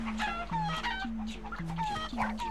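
Chickens cluck in repeated, tonal bursts in the PS2 game Crash Twinsanity, game fowl calls overlapping in a steady rhythm over a faint looping background.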